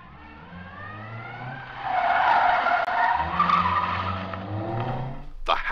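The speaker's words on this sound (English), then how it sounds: "The handbrake turn." A car skids through a handbrake turn, the tyres squealing and scrubbing loudly for several seconds close by, with faint voices underneath.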